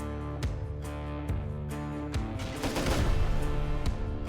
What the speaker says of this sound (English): Fluffy Unicorn laying down suppressive fire with the LR